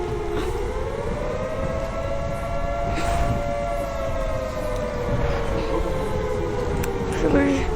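A loud, sustained nuclear alarm siren in the video game Garry's Mod wails with a slowly rising and falling tone, steady over dense background rumble.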